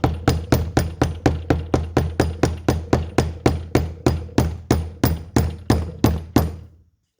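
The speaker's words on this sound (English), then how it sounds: "And I'll hammer it." A hammer strikes a screwdriver during knife making, about twenty sharp metallic blows in a steady quick rhythm, close and clear with short ringing decays, ending with a brief fade.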